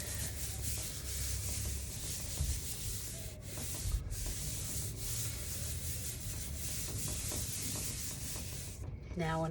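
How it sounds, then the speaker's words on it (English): A hand rubs firmly across the back of chalk-printed paper, a steady, close scratchy friction that continues almost without pause, with brief breaks near the end. "and then I'm going to rub the back to make it stick"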